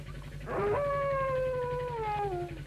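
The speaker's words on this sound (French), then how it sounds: "On dirait un chien." A single black dog howls in a long, wavering, mournful tone that slowly falls in pitch, fairly close and alone against a low background hum.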